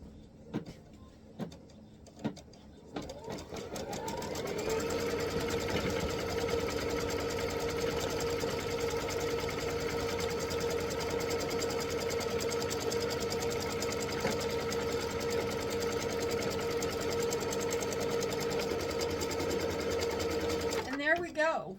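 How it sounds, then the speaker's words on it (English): A sewing machine stitches around a friendship star quilt block, running steadily and close for most of the clip after a few brief starts, with a soft voice now and then underneath. "now we're going to stitch that around"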